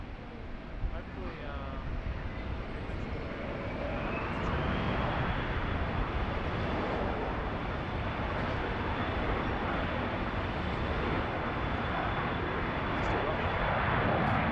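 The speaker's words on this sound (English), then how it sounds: "November 656 Foxtrot, November, runway 16 right, clear for takeoff." A fixed-wing airliner takes off from runway 16 right at Sydney Airport, a loud, steady broadband engine roar that swells after a few seconds and holds, with a rising whine and wind noise on the microphone.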